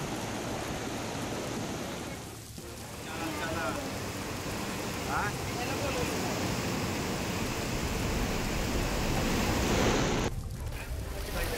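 The swollen, raging Vashishti river rushes past in flood, a dense broadband roar of churning water that stays loud and continuous throughout, close at hand with no clear talk.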